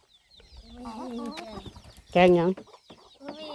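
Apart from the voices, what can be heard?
chickens clucking in a Lao mountain village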